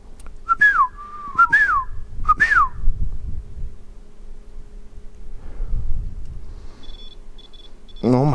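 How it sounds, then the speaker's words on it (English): Several short rising-and-falling whistles come in quick bursts in a quiet outdoor spot at Devil's Hole, a hole in the ground, with faint rustling and a few electronic beeps afterward. "The whistling? Is that the water baby singing?"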